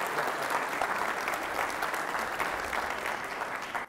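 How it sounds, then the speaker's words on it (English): Steady applause from an audience, many hands clapping together in a dense, continuous patter that fades slightly toward the end. "let's give a round of applause for Dr."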